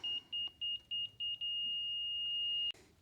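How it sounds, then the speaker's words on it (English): An equipment warning beeper sounds a rapid run of short, even beeps that then merges into one long steady tone before cutting off, heard close and alone while dirt is spread and leveled for an equipment shed. "I'm gonna turn this beeper off."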